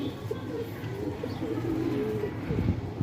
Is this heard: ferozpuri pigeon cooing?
yes